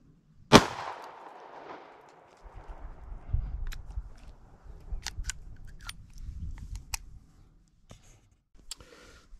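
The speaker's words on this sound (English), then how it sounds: "We're going to use the Tara Snubby. We're at about 15 feet and see how these shot shells do on the apple." A Taurus snub-nose revolver firing .38 Special/.357 Magnum shotshells at an apple about 15 feet away, one sharp loud report followed by scattered clicks, rustling and handling sounds.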